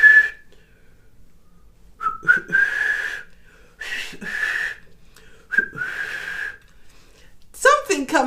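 Someone attempts to whistle up close, producing breathy, wavering tones in several uneven bursts separated by pauses, and a brief voice follows at the end.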